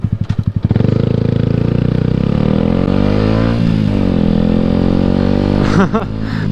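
A motorcycle on a street roars past very close and loud, its engine note revving and sweeping in pitch as it goes by, with a brief clatter at the start.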